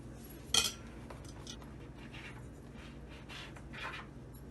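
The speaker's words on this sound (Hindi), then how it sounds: "सारे इसी तरह से काट लेंगे।" Knife slicing through fresh bread for a sandwich in a home kitchen, a sharp clink near the start followed by soft, repeated scraping strokes, fairly quiet.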